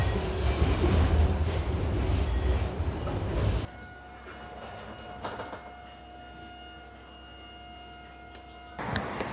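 A tram in Sofia, Bulgaria, rumbles loudly on its rails, then the noise drops to a steady electric hum with faint creaks and clicks from the car before the rumble swells again near the end, with no talking.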